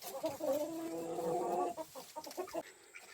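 Two chickens kept with ducks cluck and squawk up close, a drawn-out sustained call followed by a run of short choppy clucks, then quiet.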